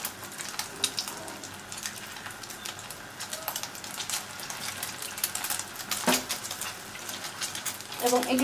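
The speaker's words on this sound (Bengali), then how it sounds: "এখন এই যে ডিমটা গুলিয়ে রেখেছিলাম এর মধ্যে এর ধারগুলো দিয়ে চুবিয়ে আমি এতে ভেজে নেব" Egg-dipped bread pieces frying in hot oil over a medium flame, giving a soft continuous sizzle with small crackles and a few utensil clinks.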